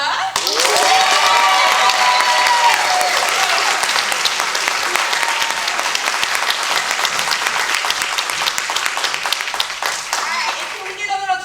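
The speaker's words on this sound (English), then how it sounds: "Second place, please make some noise for Sierra." An audience at a spoken word competition breaks into loud, sustained applause with whoops and cheers, thick clapping filling the room for about ten seconds before thinning out.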